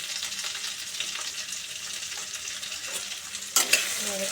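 Pumpkin and potato with turmeric and salt being stirred as they fry in a pan, a steady close sizzle with soft scraping strokes, ending in a brief louder clatter near the end.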